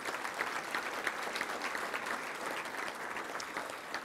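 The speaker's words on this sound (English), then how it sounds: "Let's give them a round of applause." Sustained applause from an audience at a touchdown club luncheon honoring staff, steady dense clapping of moderate loudness throughout with no talk.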